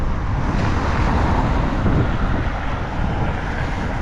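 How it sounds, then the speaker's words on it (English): Traffic on a noisy East London street, a continuous low rumble of passing cars mixed with wind buffeting the microphone, steady and fairly loud throughout with no talk. "right now it's so noisy and a lot of cars are passing"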